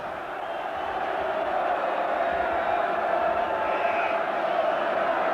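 Steady roar of a large football crowd at the Goldstone ground for Brighton v Manchester United on a wet, miserable afternoon, a dense continuous murmur with faint shouts rising through it.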